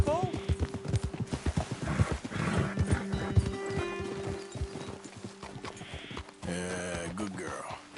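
Rhythmic horse hooves clopping at a steady pace in Red Dead Redemption 2, close by, with a horse whinnying near the end and speech over the top.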